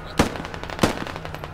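Two sharp gunshots roughly half a second apart in the video game Squad, loud and close, over a low background rumble.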